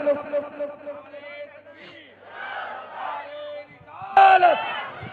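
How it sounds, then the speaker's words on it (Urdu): A crowd at a religious gathering shouts a chanted slogan in loud call-and-response, with a leader's amplified voice calling and massed voices answering in bursts, the last response loudest. "نعرے تکبیر، بلند آواز سے سب لوگ"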